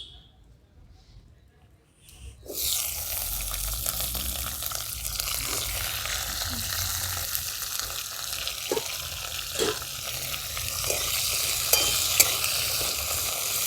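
Washed, cut potatoes drop into hot oil already tempered with black cumin and dry chilli, starting a steady sizzle with occasional stirring clatter after a brief quiet start. The frying stays fairly soft and close, with no voices.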